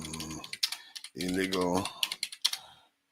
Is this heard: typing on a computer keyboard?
yes